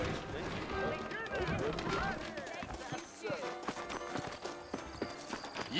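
Horse hooves clip-clop in the Red Dead Redemption western game, a steady quick patter of hoofbeats on a dirt street with soft neighing, mixed with character dialogue.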